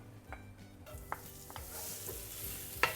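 Chopped young ginger frying in a generous swirl of oil in a wok, a soft, quiet sizzle under occasional scrapes and stirs of a utensil moving the pieces around, with small clinks standing out.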